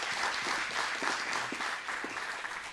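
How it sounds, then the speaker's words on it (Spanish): A packed audience at a green banking and climate finance panel gives the panelists a sustained round of applause, even and continuous throughout. "pedirle un fuerte aplauso para nuestros panelistas"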